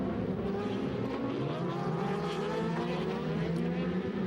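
DTM touring race cars at Hockenheim in 2011, engines roaring together in a dense, continuous sweep of overlapping revs and shifting pitch, loud and close throughout with no talk.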